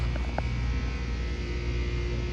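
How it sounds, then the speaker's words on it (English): An elevator's hydraulic motor running in its machine room, a steady low drone and hum holding even and loud throughout, with a couple of faint brief ticks early on. "we'll hear the hydraulic motor"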